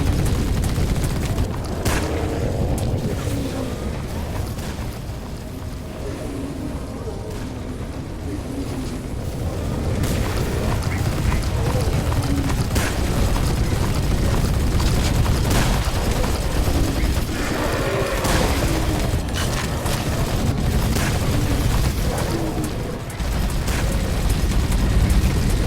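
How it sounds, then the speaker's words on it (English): Heavy explosive charges detonating in the tactical game The Red Solstice, a run of deep booming blasts and rumbling roars that swell and recur over a loud, continuous noisy bed, with no talking. "I think it's time to pop these charges."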